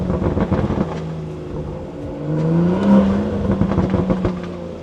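A car with a BMW B58 engine revs up close and loud, a deep droning exhaust climbing in pitch in a couple of rising pulls before settling back, heard alone without talk.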